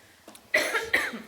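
Someone in a kitchen coughs twice from lemon zest being added to a dish, two sharp, close bursts after a brief quiet start.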